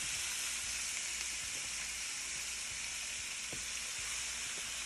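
Garlic and curry frying in a pan for Jamaican curry chicken, a steady soft sizzle and hiss with a few faint clicks of stirring, heard alone without talk.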